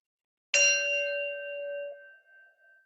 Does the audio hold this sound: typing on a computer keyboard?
no